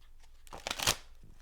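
A short, close flurry of tarot card shuffling with a soft papery riffle that peaks and fades within a second.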